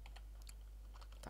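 Brief burst of typing on a computer keyboard while entering details during a Windows Server 2003 setup, a handful of faint close clicks over a low steady hum.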